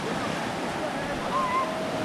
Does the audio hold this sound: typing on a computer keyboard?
no